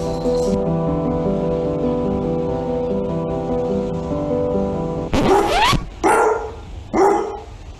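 A dog barks three times, close and loud, breaking in after a sustained tonal backdrop that cuts off just before the first bark.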